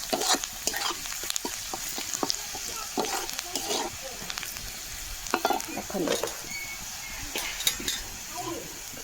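Mutton with chili powder sizzles steadily in a pan while a utensil stirs and scrapes, with scattered clinks of metal against the cookware throughout.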